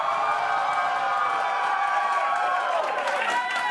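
Crowd at a live main-stage show cheering for the Banjo Burglars, a steady wash of shouting and whooping voices mixed with some clapping, holding level throughout.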